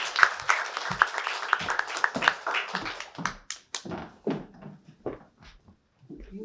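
A reading-event audience applauds to welcome a reader to the stage, a dense round of clapping that thins into scattered claps and fades out.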